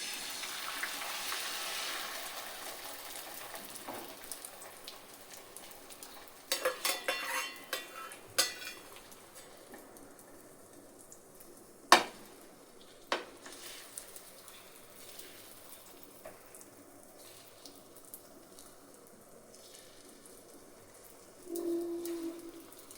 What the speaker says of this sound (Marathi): तेल गरम झाले. आता अंडे टाकू आपण.